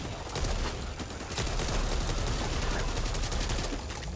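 Dense gunfire from the zombie shooter game Back 4 Blood crackles in rapid overlapping bursts, loud and unbroken across the moment with no talking.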